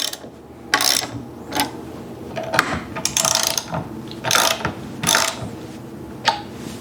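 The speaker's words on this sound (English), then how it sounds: "go ahead and tighten up the 2 nuts" Nuts being tightened on a Woodpeckers Quick Lift HDS router lift to clamp the router motor, giving a series of close, loud ratcheting bursts separated by short pauses.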